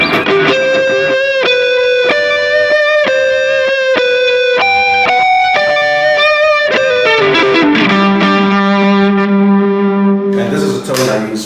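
Electric guitar lead tone from a pedal rig that pairs drive and swell for one sound, playing a loud, sustained run of distinct notes that gives way to a long held low note, with no talking.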